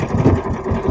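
A fishing boat's engine runs steadily at sea after stalling and being restarted, a close, continuous mid-pitched motor drone with a faint rhythmic pulse.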